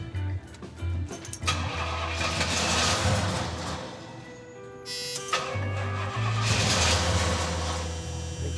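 A 1975 Pontiac Firebird engine cranking with a whirring starter in two long bursts, the second catching briefly. Loud and close in a garage, with no talking over it.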